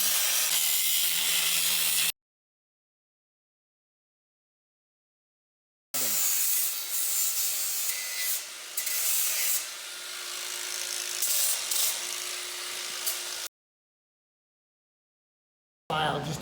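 Hand filing on the metal track bar bracket mount of a vehicle being fitted with hydraulic assist steering, a steady rasping scrape in repeated strokes, close and fairly loud, broken by silent gaps, with no talk.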